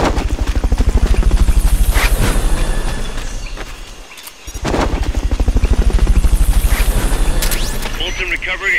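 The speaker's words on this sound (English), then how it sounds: "Fulton recovery helicopter is complete" The Fulton recovery helicopter in Metal Gear Solid Peace Walker thrums loudly with a steady rapid rotor chop, briefly dipping midway before surging back at full strength, with other game sounds layered on top.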